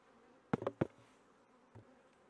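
Honey bees in a queen bank box give a few short, close buzzing bursts, with a quieter hum and faint handling behind them.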